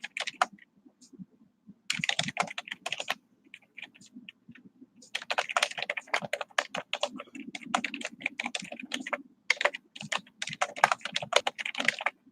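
Rapid clicking of fingers typing on a computer keyboard, close and fairly quiet, coming in uneven bursts with short pauses between runs of keystrokes.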